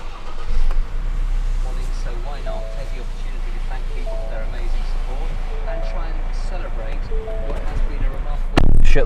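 A truck with a freshly fitted TDI tuning box has its ignition cycled, with dash warning chimes and tones pinging, then the diesel engine cranks and catches loudly at the end.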